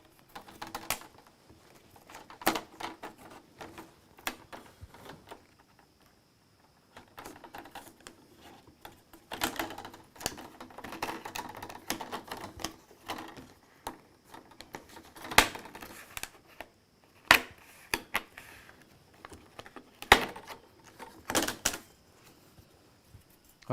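A plastic screen bezel on an HP EliteBook 8540w laptop is pried loose, producing scattered sharp clicks and snaps in irregular bursts with quiet gaps between them.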